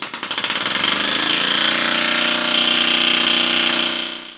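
A small compressed-air piston engine running at 100 psi, starting with a few distinct chugs that quickly speed up into a loud, fast, steady mechanical buzz before cutting off at the end.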